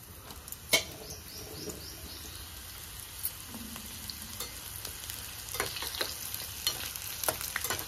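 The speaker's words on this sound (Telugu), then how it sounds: "పల్లి నూనెలో మంచిగా ఫ్రై చేసుకున్నాము." Sun-dried mushrooms fry in peanut oil with a quiet, crackling sizzle and occasional stirring clicks, while birds chirp faintly outdoors in the background.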